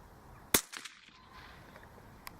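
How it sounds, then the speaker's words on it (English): A .17 HMR rifle fired through a Hushpower Bobkat moderator gives a single sharp, fairly close crack. A few quieter clicks and rattles trail off after it, and a faint tick follows a little later. "there's a crack, a small hypersonic crack, which the HMR is famous for, and then we're hearing the splash"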